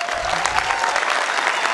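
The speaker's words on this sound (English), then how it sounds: "I'll clap too, because it mostly wasn't me." A college commencement audience applauds, dense continuous clapping from a large crowd filling the hall, steady and fairly loud throughout the short stretch.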